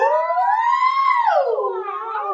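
A single human voice imitates a siren during a private vocal lesson, one smooth continuous glide that rises, holds high, then swoops down and levels off low, close and steady with no other sound.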